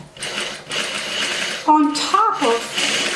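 A sewing machine fitted with a gathering foot stitches fabric in loud, rapid mechanical bursts close by, stopping briefly while someone speaks over a short pause.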